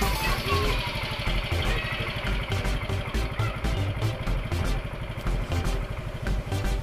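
A fuel-injected motorcycle engine idles close by with a rapid, even mechanical ticking and pulsing exhaust beat, running steadily without any rev changes.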